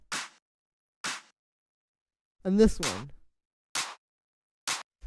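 Clap sample from an electronic track, two layers played one after another: short, sharp bright hits spaced about a second apart. A voice speaks briefly in the middle.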